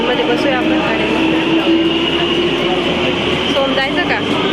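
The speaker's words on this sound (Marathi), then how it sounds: "सो ट्यूब ट्रेन असते, म्हणजे अंडरग्राऊंड ट्रेन आहे. सो चला, ट्रेन आली आपली." A London Underground tube train pulls into Wembley Park station, a loud continuous rumble and screech of wheels on rails filling the platform throughout, with no pauses.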